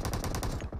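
Automatic weapon fire in the mobile battle royale game BGMI: a rapid, evenly spaced burst of about eight loud shots within under a second, close and alone without talk.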